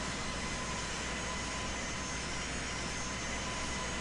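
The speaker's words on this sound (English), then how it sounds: "That plane has taken off and he's starting his turn." Jet airliner engines in the Infinite Flight flight simulator game produce a steady, unbroken broadband roar throughout, loud and even with no talking.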